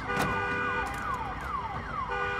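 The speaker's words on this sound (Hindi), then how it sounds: "अलार्म बज चुका है" An alarm blares in the zombie game Days Gone, a loud, repeating electronic wail with several pitch sweeps in quick succession and a few sharp clanks, heard alone with no talk.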